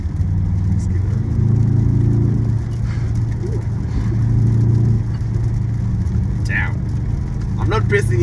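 The engine of a 2025 Mercedes-Benz GLS63 AMG in Sport Plus mode hums and builds in a low, steady drone while the SUV drives on a suburban road, with someone talking briefly over it.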